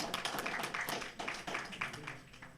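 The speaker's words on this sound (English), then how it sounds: "Give yourselves a big round of applause." A church congregation gives itself a round of applause during a Sunday service, a short burst of scattered, fairly faint hand clapping with distinct individual claps rather than a dense roar.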